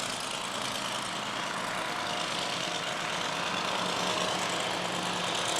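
A racing hydroplane boat engine at Gold Cup practice runs smooth and steady, a loud, continuous broadband roar with no breaks and no voices.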